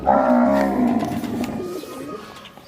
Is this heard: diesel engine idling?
no